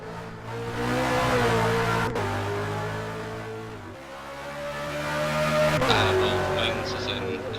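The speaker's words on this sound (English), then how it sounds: "He's just driving the 222 HHA Commodore just now until the new car comes out of the shop." A Holden Commodore V8 Supercar in a racing video game drives hard at Hidden Valley, its engine note rising and dropping through gear changes, loud and continuous with no talk.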